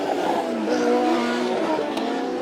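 Race cars scream down the main straightaway of a circuit at speed, a loud sustained engine whine with shifting pitch as cars pass close by, steady throughout.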